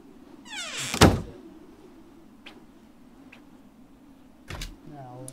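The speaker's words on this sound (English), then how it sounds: "Now I can open this door." A door opening in the survival video game Rust, a sharp creaking sweep and thud near the start, followed by faint clicks and a second brief clunk toward the end against a low steady hum.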